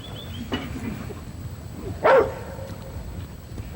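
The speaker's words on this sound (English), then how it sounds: "they'll trail a cow until they get it, and then they'll bay at it" A single sharp Catahoula leopard dog bark rings out fairly close, with a faint earlier yip and quiet outdoor background; no one speaks.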